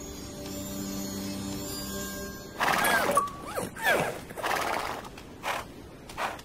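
A horse in the game Fable: The Journey lets out a loud whinny and then snorts, with hoof clops and shuffling close by after a quieter hum of ambience.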